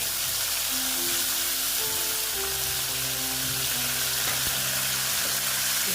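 Onion and ginger frying in a pan for a boal fish dish, a loud, steady close sizzle with a low hum and a few stirring knocks underneath.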